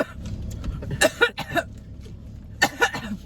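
A person coughs over food, with a few short, sharp, close coughs clustered together, a pause, then another pair of coughs, over low background noise.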